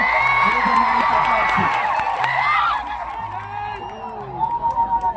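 A crowd of Adivasi supporters at a political rally cheering and whooping loudly, with shouts and voices overlapping in a dense roar that drops to a lower buzz of chatter partway through.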